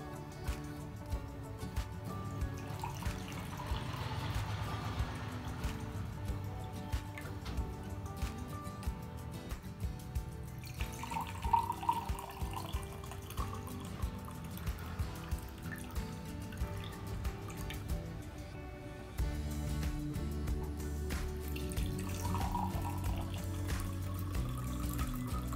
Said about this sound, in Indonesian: Lalu kita tuangkan air.